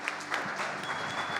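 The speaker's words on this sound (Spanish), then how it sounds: "Le damos un aplauso al Señor." Brief applause from a church congregation after a sermon, a steady spatter of many hands clapping at moderate distance, even in level for the whole short stretch with no voices.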